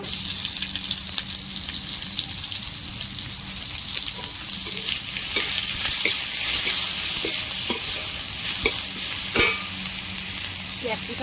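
Chopped curry leaves and onion fry in a hot pan for a cauliflower 65 starter, a steady loud sizzle with scattered stirring clicks and scrapes throughout, no voices.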